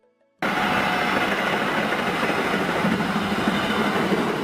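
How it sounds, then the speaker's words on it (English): An underground subway train roars in abruptly, a loud, steady broadband rumble that holds without a break after the first half second. "Subway train, similar to metro trains, underground trains serving urban transportation needs."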